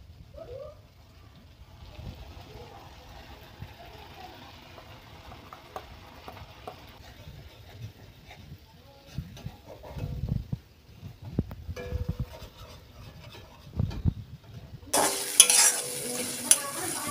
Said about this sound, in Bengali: তো চলো এবার এগুলো ভাজি দিয়ে দিই